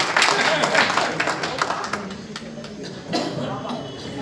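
An audience at a memorial programme applauds a Bundeli-language poet, uneven clapping that is loudest at first and then thins into scattered claps, mixed with a speaker's voice.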